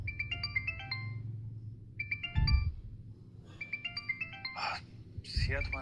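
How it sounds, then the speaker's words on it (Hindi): A bright electronic mobile ringtone plays its melodic phrase in repeated bursts, with brief speech and soft rustling between the rings. "तुम्हारा फोन बज रहा है।"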